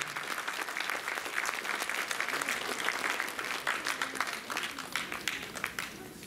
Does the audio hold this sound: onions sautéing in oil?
no